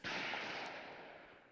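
Gunfire in the visual novel Chaos;Head Noah: one sharp, loud blast that rings out and slowly fades over about a second, with no voices.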